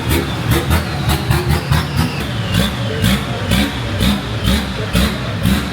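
A Nissan Patrol with a TD42 diesel engine and F66 turbo revs hard on a dyno, a loud, continuous engine roar pulsing with repeated throttle blips, with no talking.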